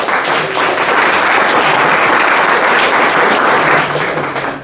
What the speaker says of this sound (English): Can you please give a huge round of applause for our VIP guest?